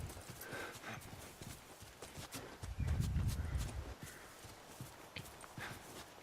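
Horse hooves clip-clopping in the video game The Last of Us, a soft, fairly distant patter of hoofbeats under ambient noise, with a low rumble swelling in the middle.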